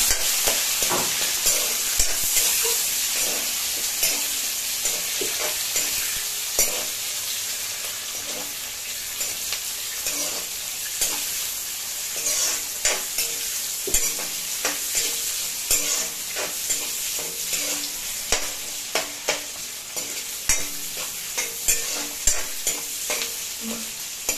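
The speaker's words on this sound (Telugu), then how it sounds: "తర్వాత ఒక ఆనియన్ తరుక్కొని వేసుకోవాలి. బాగా కలపాలి." Chopped onion is stirred and fried in oil in a pan, giving a loud, continuous close sizzle with repeated scraping and tapping strokes of a spoon throughout and no voices over it.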